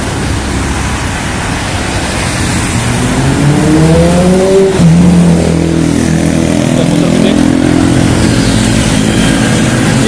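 Big motorcycles and other traffic rolling past on a wide Jakarta city street near the DPR building on a Sunday, a loud, continuous engine roar with a rising rev that swells and fades as one passes close by.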